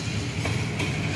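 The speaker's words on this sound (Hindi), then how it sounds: "रावलपिंडी से कराची जाने वाली ट्रेन है ये" The Tezgam express from Rawalpindi to Karachi rolls past at Shahdara Bagh Junction near the Ravi railway bridge, a steady, loud rumble of wheels and wagons with no talk.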